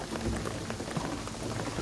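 Steady rain in the jungle world of the video game Shadow of the Tomb Raider, a dense, even hiss of falling drops pattering on surfaces, close and continuous with no talking.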